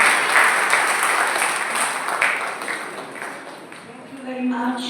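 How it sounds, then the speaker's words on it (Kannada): Steady applause from an audience at a church evening program, a dense wash of many hands that gradually thins and fades as a voice begins near the end. "ಚಪ್ಪಾಳೆ ಹೊಡಿ"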